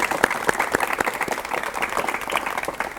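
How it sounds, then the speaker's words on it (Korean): A studio audience at a 1985 Korean television talk show greets a guest author with steady, lively applause, many hands clapping close together throughout the short stretch, with no talking over it. "박수로 맞이해 주십시오."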